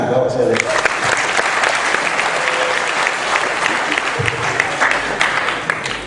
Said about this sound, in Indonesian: Tepuk tangan kalau saya lihat.